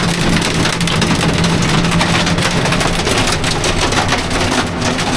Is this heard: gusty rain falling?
yes